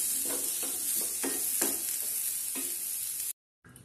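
Onions and green chillies sauté in a pan under a steady sizzle, with a rhythmic series of scraping strokes from stirring. The sound cuts to silence near the end before a brief return.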